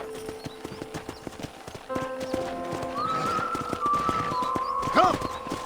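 Hooves clip-clop steadily from a horse in the Western video game Red Dead Redemption, with a loud whinny near the end; a voice speaks briefly over the hoofbeats.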